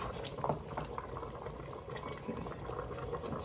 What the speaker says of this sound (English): Ooh, that's really bubbling. Bubbling, bubbling, bubbling.